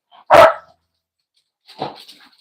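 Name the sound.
dog barking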